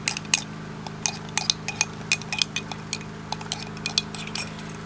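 Soap ingredients being stirred in a container, with a series of light clinks and taps from a utensil knocking against the sides, close and fairly quiet, over a steady low hum.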